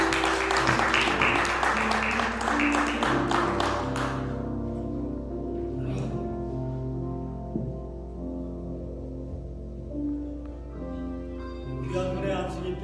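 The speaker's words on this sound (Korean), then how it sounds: "박수로 한번 함께" A church congregation applauds during a pastor ordination service, brisk clapping for about four seconds that quickly fades, followed by quieter room ambience with scattered claps and organ-like sustained tones underneath.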